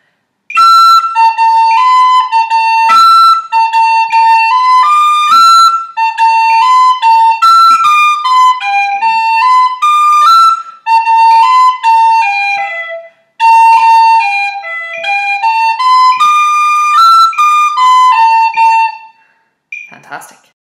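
A melodic whistle, likely a tin whistle, plays the Irish tune Scatter the Mud at a slow 50 bpm, a steady run of clear high notes with short breath gaps, close and loud with no talk over it.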